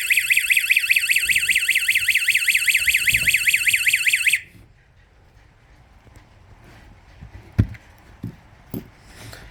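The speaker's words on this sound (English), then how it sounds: "the alarm starts sounding" Exit stopper door alarm blaring a loud warbling electronic siren that cycles rapidly for about four seconds, then cuts off abruptly, leaving quiet room noise with a few faint knocks and clicks.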